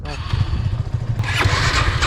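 A Royal Enfield Himalayan motorcycle engine runs close by with a steady low, throbbing rumble, while voices talk over it throughout.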